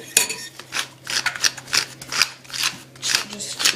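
Pepper ground by hand into beaten eggs for scrambled eggs, a close, rhythmic gritty rasping in quick repeated bursts, steady and fairly loud on its own.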